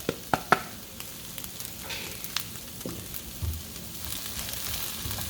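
Mushrooms being added to onions already cooking in a pan, with a few sharp clatters and stirring knocks at the start over a steady, low sizzle that continues faintly.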